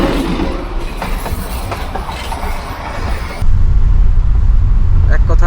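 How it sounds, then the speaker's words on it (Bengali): A Darjeeling toy train on the hill railway rumbles past with a broad, steady roar of wheels and carriages that grows heavier and closer partway through, with voices faintly mixed in. "ভাবছিলাম কখন আসবে টয় ট্রেন, আচমকা চলে এলো।"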